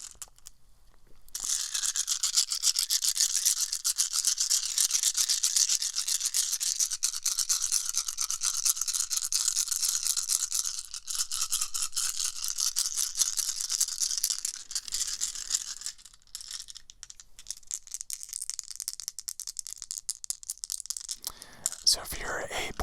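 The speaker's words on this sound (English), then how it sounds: "This is the sound of dice." X-Wing board game dice rattle and clatter inside a fabric dice bag at a convention, a bright continuous shaking that runs for long stretches, close and crisp, with brief pauses and a soft whispered voice.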